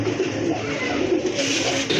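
Large pigeons coo continuously at close range, several low throaty calls overlapping against a dense, steady background hiss.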